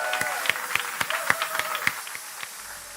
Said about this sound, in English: Please give them a massive applause.